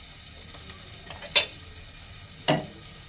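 Onion and garlic frying in oil as a tempering for chicken make a low steady sizzle close by, broken by two sharp stirring scrapes.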